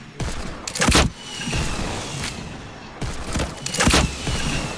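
Rapid gunfire bursts from the Fortnite battle royale video game repeat loudly in two clusters, with dense shots and thuds filling the mix.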